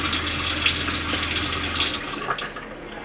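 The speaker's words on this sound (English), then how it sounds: "right there you have very hot water" A boat cabin's sink faucet runs steadily with very hot water, the splashing hiss easing off slightly toward the end.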